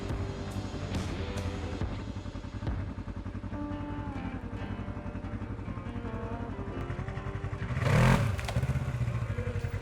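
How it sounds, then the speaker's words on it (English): A Segway AT10 1000 ATV quad engine runs with a rough, steady drone and rattling clatter, then surges briefly louder as it launches under throttle. No one speaks. "Push the throttle and the quad launches smoothly but very quickly."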